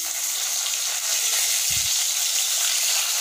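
Fish fries in hot oil in a home kitchen, a steady, close, bright sizzle that continues unbroken, with a brief low knock partway through and no talking.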